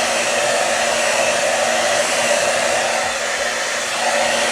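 A hair dryer blows steadily and loudly to dry acrylic paint on a beginner's flamingo painting, holding a constant whooshing roar with no pauses.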